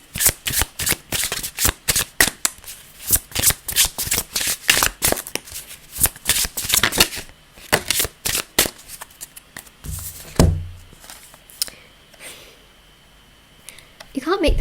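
Tarot cards are handled and shuffled up close in rapid, crisp riffling bursts, with a short pause and some soft handling near the end.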